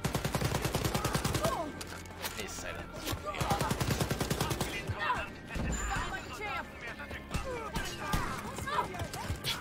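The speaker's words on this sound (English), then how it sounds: "God, I just love the shotgun in this game." Shotgun fire in the Wolfenstein: Youngblood video game, a rapid run of punchy blasts at the start followed by scattered shots and clattering combat noise, with talk over the action.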